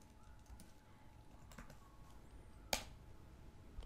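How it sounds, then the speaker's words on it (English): Password keystrokes on a computer keyboard at an MS-DOS prompt, a few soft clicks followed by one sharper, louder key press like Enter, all under a low background hum. "So I'm typing it on my keyboard and I press enter."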